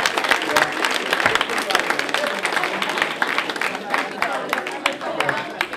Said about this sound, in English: we should give a round of applause to the chef and the